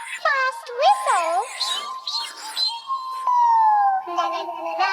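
Playful voices, likely a child's, imitate a fast toy train whistle with rising and falling tones, then hold a steady whistled note, close and fairly loud.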